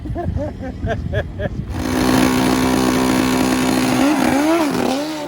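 A pit bike engine buzzes loudly and revs up, its pitch rising and wavering, following brief speech at the start.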